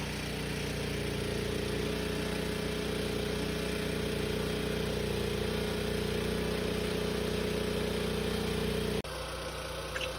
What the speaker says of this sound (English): I'm using the DJI generator, which does a great job of charging my batteries as it idles down as batteries are full